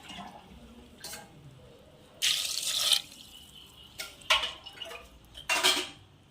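Water splashes and runs in bursts as black chickpeas are rinsed in a metal pressure cooker, with clinks of metal between the pours.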